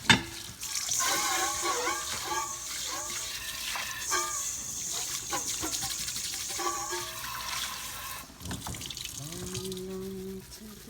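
Water pours and splashes steadily as washed raw chicken is strained, a loud running, gurgling stream that trails off near the end into a few drips and a faint low hum.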